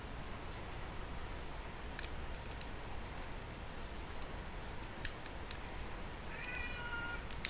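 Two cats meow and yowl loudly indoors in scattered bursts, with a few sharp high cries toward the end, over a steady background hiss and faint rustling.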